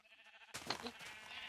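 Sheep bleating in Minecraft, a single short synthetic bleat breaking in after a moment of quiet game background, close and clear with no talking.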